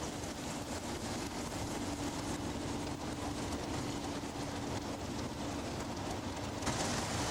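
A British Rail Class 37 diesel locomotive, a steady, dense rumble and rush of a passing train with faint clickety-clack, continuous and fairly distant, with no talk.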